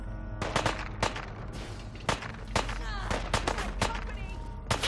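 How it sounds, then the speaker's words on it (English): Repeated sharp gunshots from Fallout 4 crack out irregularly over a steady, busy game background, some shots louder and closer than others, with speech mixed in. "We are being shot at."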